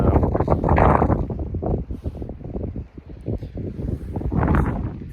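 Wind blowing hard around a tent while winter wild camping at Llyn y Fan Fawr, strong gusty buffeting roaring close to the microphone throughout.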